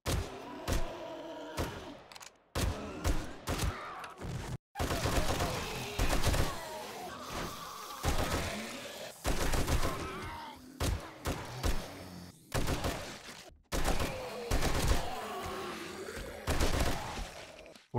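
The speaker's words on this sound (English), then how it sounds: "I like firing the gun." Guns fire in the video game 7 Days To Die: loud, close bursts of shots and thuds in quick irregular runs, broken by brief silent gaps, with dense game noise filling the spaces between volleys.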